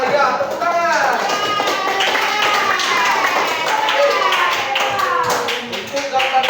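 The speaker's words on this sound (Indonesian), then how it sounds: "Ya, tepuk tangan." A group of students claps hands in a classroom, a dense, steady patter of many hands that holds for several seconds while children's voices chatter and call out over it.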